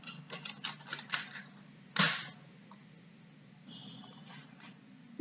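Quick run of computer keyboard taps near the start, followed by a louder click and a quieter stretch with a faint tone, recorded close and slightly muffled.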